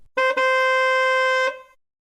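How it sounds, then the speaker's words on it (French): A taxi's car horn blares in one long, unbroken honk held for over a second after a brief first tap, loud and alone before fading out. "le chauffeur de taxi, rouge de colère, appuie sur le klaxon et ne le lâche plus"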